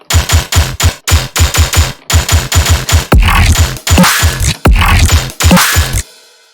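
A harsh, distorted tearout gun sound synthesized in Sytrus fires in rapid bursts, rattling like an electronic machine gun, then a few longer heavy blasts, loud and dry.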